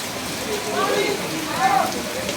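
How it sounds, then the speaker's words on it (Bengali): Evening rain falls over a village in a steady, even hiss, with a few faint tonal sounds rising briefly above it. "আজ সন্ধ্যে থেকে শুরু হয়ে গেল বৃষ্টি"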